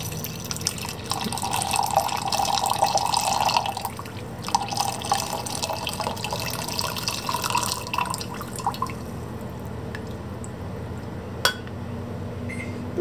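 Coffee poured slowly into a cup for a homemade mocha latte, a steady liquid trickle and drip for about four seconds, then quieter kitchen sounds with a few faint clinks, no talking.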